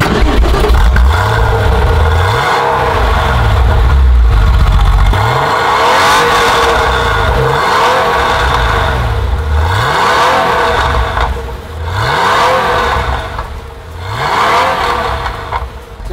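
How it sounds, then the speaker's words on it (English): A Porsche 993 flat-six engine starting, then idling with a steady burble, with repeated sharp exhaust revs that rise and fall in regular bursts, loud and close, with no talking. "I'll just start the car so you can hear the exhaust."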